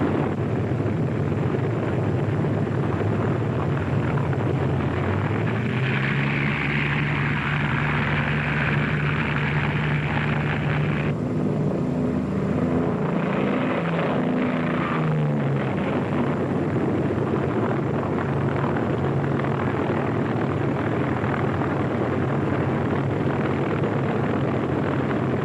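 WWII fighter planes take off with a dense, continuous engine roar, loud and wide. One engine tone climbs in pitch midway and then fades back into the broad rumble.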